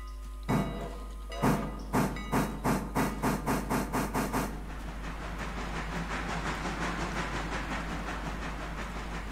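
A steam locomotive in the Railroader video game chuffs in a steady run of sharp exhaust beats that quicken, then gives way to a continuous loud hiss of escaping steam.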